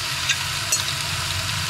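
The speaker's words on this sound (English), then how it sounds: "Here's the sizzle." Garlic sausage sizzles in an oiled frying pan, a continuous bright hiss over a low background hum, with a couple of faint ticks.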